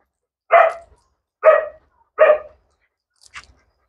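A dog barking three times in an even rhythm, loud and close, followed by a fainter short yip, with quiet between.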